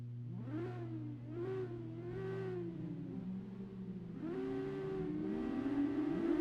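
Race car engines idle and rev together on the starting grid before a Formula-style race in Miami, a steady layered drone with rising and falling pitch sweeps, loud and close, with no talk over it.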